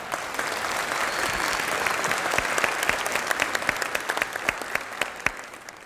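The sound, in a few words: audience applause at a graduation ceremony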